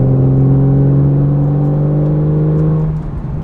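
A Porsche 911 Carrera 4S accelerates with its exhaust valves open, giving a loud, steady, close droning engine note rich in harmonics that eases off and fades near the end.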